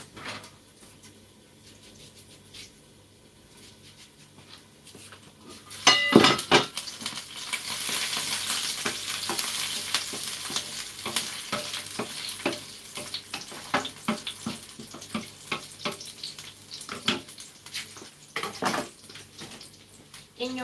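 Onions frying in a pan until burnt: quiet clinks at first, then a loud sizzle bursts in and continues with stirring scrapes and crackles.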